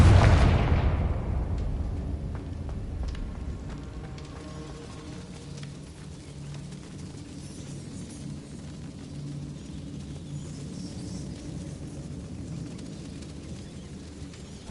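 A Confringo fire spell from Hogwarts Legacy bursts with a loud explosive boom at the start, then fades into a long rumbling decay and low ambient hum.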